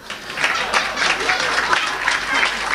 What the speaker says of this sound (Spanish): Y todavía te aplauden